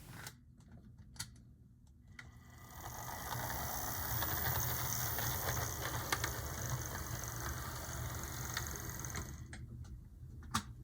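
A Tyco Southern Pacific RF-16 or Atlas EMD model train locomotive motor runs smoothly at a crawl, giving a steady mechanical whir with fine ticking and gear chatter, moderately loud and close, with no talk over it.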